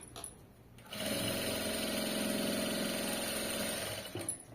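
Close by, a home sewing machine hums in one continuous run of about three seconds as it stitches fabric, its rapid needle rhythm steady before it winds down to quiet.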